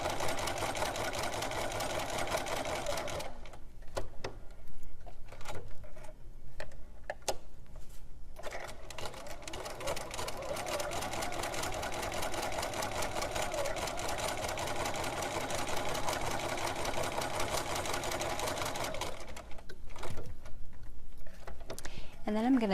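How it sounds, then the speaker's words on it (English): A sewing machine stitches around the green area of a fabric eyeball for a Halloween barrette, running in steady bursts with brief pauses, close and fairly loud, with a voice speaking over parts of it. "I'm just going to start by stitching around the green area of the eyeball"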